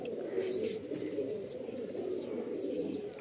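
A single active male Madrasi pigeon coos in a rooftop loft in Kolkata, repeated soft low throaty calls in a continuous close rhythm, with faint higher chirps drifting in from other birds.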